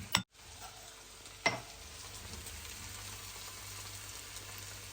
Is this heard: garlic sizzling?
yes